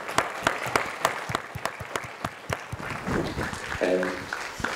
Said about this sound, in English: I hope we can all give you, Mr. Floyd, a round of applause for this.